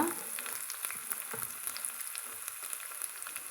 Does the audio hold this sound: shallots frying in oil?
yes